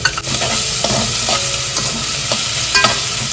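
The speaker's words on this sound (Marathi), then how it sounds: "आई सर्व आता फोडणीसाठी लसणी घालून घेते" Garlic, onion and bay leaf sizzling in hot tempering oil for a country chicken curry, a loud, dense, continuous fry close up with scrapes of stirring and no voices.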